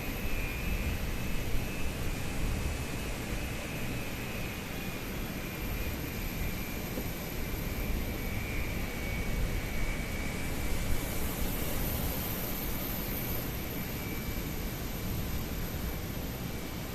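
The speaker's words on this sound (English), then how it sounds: "The plane just landed." Airliner jet engines at Johannesburg airport after landing in a flight simulator game, a steady, loud broadband roar with a faint high whine that holds unbroken throughout, no voices.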